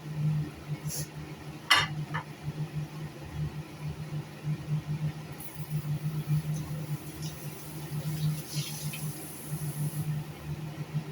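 Pork belly and long beans stir-fried in a pan, soft scraping and clinks of a utensil against metal over a faint sizzle, quiet and close, with a steady low hum underneath.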